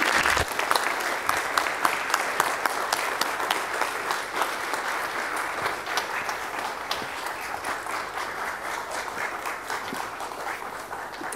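An audience welcomes speaker Paul Vitz with loud, sustained applause, many hands clapping densely and evenly throughout, close and filling the room without letting up.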